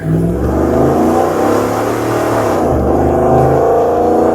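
An LS 5.3 V8 swapped into a 1983 Jeep Scrambler revs up close and loud, its engine note rising and falling through a couple of throttle blips.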